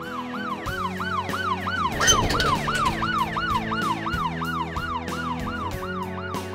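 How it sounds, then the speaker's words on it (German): An animated police car's siren in a children's cartoon wails in rapid, repeating up-and-down sweeps, steady and fairly loud, with a passing vehicle's rumble underneath. "Das ist ein Polizeiauto."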